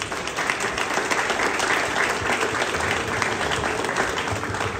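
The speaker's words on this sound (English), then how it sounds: "Let's give those a round of applause as well." Sustained audience applause fills a school celebration marking the completion of Alder Creek Elementary in Folsom, a dense even wash of many hands clapping for several seconds.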